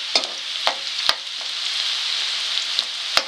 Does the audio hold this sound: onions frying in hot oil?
yes